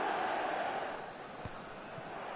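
Stadium crowd in the eFootball video game on PS5, a steady broad roar of many voices that swells slightly before easing, with a commentator talking over it.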